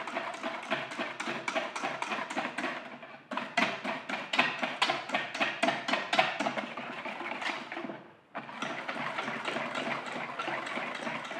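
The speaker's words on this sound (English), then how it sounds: "So you just whisk all that together." Hand-whisking red velvet cake batter in a bowl: quick, steady scraping strokes in a close, continuous rhythm, broken by two brief pauses.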